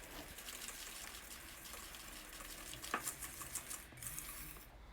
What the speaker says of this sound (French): je vais incorporer mon sachet de levure chimique ainsi que mes 90 g de farine et tout simplement, je refouette